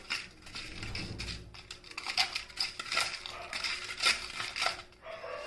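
Scraping and clinking of solids being stirred together in a bowl for a sublimation experiment, irregular close strokes rising and falling in loudness, fairly quiet.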